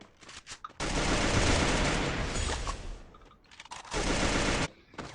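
Automatic gunfire from the video game Free Fire, with loud sustained bursts of rapid shots broken by short pauses and a few scattered single cracks.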